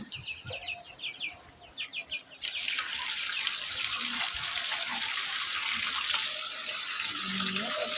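Pumpkin being washed in water: a short running-water splash at first, then a steady loud rush of tap water filling and sloshing, with a rooster and birds audible in the background early on.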